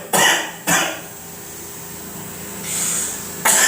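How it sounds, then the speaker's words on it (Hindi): A teacher coughs during a trigonometry lesson: three loud, close, harsh bursts, two in quick succession and one after a pause, with room noise between. "ठीक है, खांसी आ गई।"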